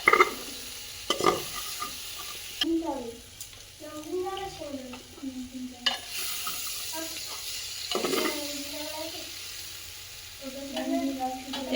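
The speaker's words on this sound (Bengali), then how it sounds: "এই যে দেখুন একসাথে সব কষাইতে, মশলা আর এই সবজিগুলো সব একসাথে কষাই করে দিচ্ছি।" Vegetables and spices are sautéed together in a pan for dry khichuri. A sizzle with repeated stirring scrapes runs through, and a voice talks intermittently over the cooking.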